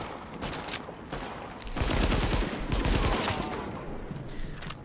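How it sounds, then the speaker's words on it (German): Rapid assault rifle fire in The Division video game crackles in dense, loud bursts, intensifying through the middle into sustained automatic fire before tapering off, heard without talking. "wenn ihr seht, wie dieses Sturmgewehr reinhaut"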